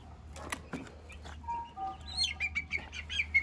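Chicks chirp in a rural village setting, a few high, short peeping calls scattered over quiet background hum, with faint rustling or flapping near the start.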